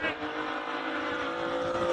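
A BMW E36 race car on the Cape Town Speed Classic hillclimb course holds a steady, fairly distant engine drone with a faint tonal whine throughout.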